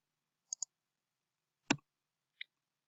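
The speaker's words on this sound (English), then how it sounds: "So if we click once more and click OK" Computer mouse clicked while stepping through a program in a simulator: a quick double click, a louder single click a second later, then one more faint click, sharp and close in near silence.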